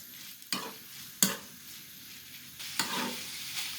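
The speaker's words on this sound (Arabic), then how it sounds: "هسيب اللحمة المفرومة كده لغاية لما تستوي" Minced meat fries in a pan under a soft steady sizzle, broken by several sharp scraping stirs of a utensil against the pan, heard up close with no voices.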